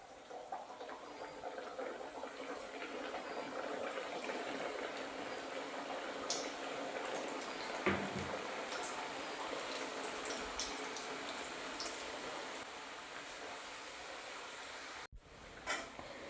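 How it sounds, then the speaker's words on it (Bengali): Khaja pastries frying in hot oil over lowered heat, giving a steady, gentle, close hiss with small crackles throughout and a brief clatter near the end. "এরপর আমি খাজাগুলো একটা একটা দিয়ে দেবো।"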